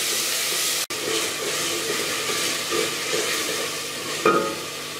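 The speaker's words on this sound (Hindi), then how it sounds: "अदरक लहसुन का पेस्ट 1 चम्मच भर के ये भी मैं इसमें डाल दूँगी। इसको अब हम 2 मिनट के लिए भून लेंगे।" Ginger garlic paste frying in hot oil in a pan while chana pulao is made, giving a steady, close sizzle with a sharp clink about a second in and a brief scrape of stirring near the end.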